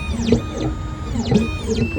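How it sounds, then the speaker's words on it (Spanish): A key cutting machine cuts a new key for a Ford Edge with all keys lost, giving a steady whirring grind with repeated rising and falling whines, close and continuous with no talk. "aquí vamos a cortar una llave nueva para este vehículo"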